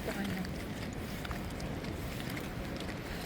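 Wind gusting across an open area near Berlin Hauptbahnhof while walking, a constant rough rushing noise buffeting the microphone, with a voice speaking over it.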